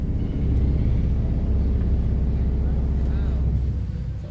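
The lowest 32-foot pipe of a pipe organ sounds a deep, steady rumbling drone that holds at full strength for about four seconds before easing off slightly at the end.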